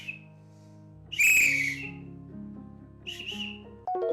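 A person whistles in two bright bursts while playing the Scream Go Hero voice-controlled game, over steady electronic game music with tonal beeps and a sharper chime at the end.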